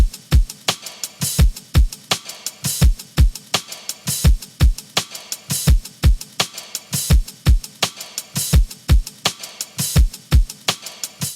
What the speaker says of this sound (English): So now with the drum loop and the kick I added, they both sound like this together.